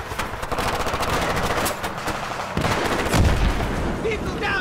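Dense, continuous automatic gunfire in a Battlefield 3 ambush from the trees, loud bursts overlapping with no letup and a heavier thump of shots near the end.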